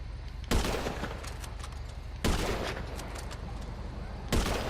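Gunfire in Grand Theft Auto V, heavy booming shots spaced a second or two apart, each with a long rumbling tail over a constant low background drone.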